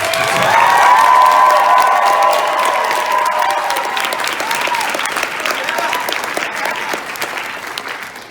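An audience at the Anime Detour 2019 convention breaks into a big round of applause with cheering and whoops, loud and dense at first, then tapering slightly while clapping continues throughout.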